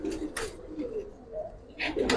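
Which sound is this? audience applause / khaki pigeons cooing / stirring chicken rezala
khaki pigeons cooing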